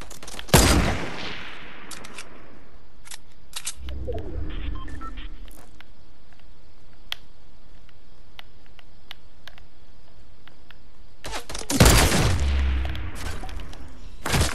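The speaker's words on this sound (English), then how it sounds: "Someone else shooting at me." Two loud, close bursts of gunfire in Fortnite, one near the start and one near the end, ring out over quiet ambience with faint distant pops and bird-like chirps in between.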